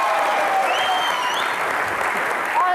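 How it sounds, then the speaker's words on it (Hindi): Loud studio-audience applause on a comedy talk show, a dense continuous burst of clapping with faint whistles or cheers riding over it. "एक बार जोरदार तालियां सोनम और फवाद के लिए।"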